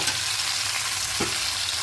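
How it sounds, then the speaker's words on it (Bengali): Taro, potato and eggplant pieces fry in oil in a pan, a dense, loud, steady sizzle with a faint stirring scrape, close up and without talk. "খুব ভালো করে তেলের সঙ্গে সবজিগুলোকে ভেজে নেবে"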